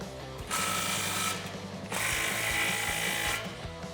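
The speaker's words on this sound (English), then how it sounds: "use the same socket to tighten those down" A ratchet with a 15 mm deep socket tightens exhaust clamps on a 2018-2019 Mustang GT, giving two quick bursts of close, fast ratcheting clicks with brief pauses between them.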